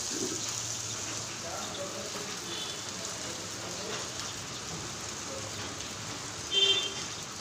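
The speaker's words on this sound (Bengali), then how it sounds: "বৃষ্টি পড়েই যাচ্ছে হালকা হালকা করে" Light rain falls steadily outdoors after a heavy downpour, making a soft, even hiss that holds low and constant throughout, with one brief louder patter near the end.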